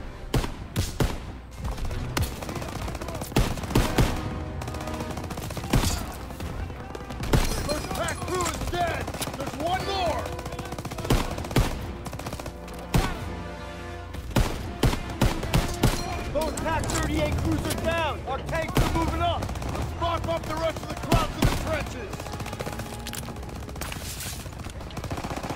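Heavy gunfire in a Call of Duty WW2 battle during Operation Cobra, sustained overlapping rifle and machine-gun bursts with sharp individual cracks, layered with game music and a player talking throughout.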